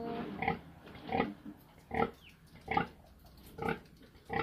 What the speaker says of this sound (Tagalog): So, ganyan po sila mga kababoy, yung ating mga biik na 12 peraso.